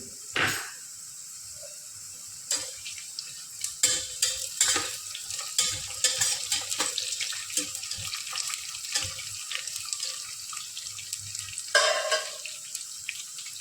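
Green chillies go into hot ghee in a pan for Karnataka-style chicken biryani, with a steady sizzle broken by repeated clatters and scrapes of stirring, and a burst of frying near the end.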